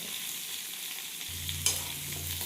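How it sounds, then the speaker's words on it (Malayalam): Shallots and tamarind sautéing in oil for an onion-chilli chutney, a quiet steady sizzle heard close up. A low hum joins partway through, followed by a single sharp clink. "ഈ ഉള്ളിയും ഒന്ന് വഴറ്റി കൊടുക്കാം"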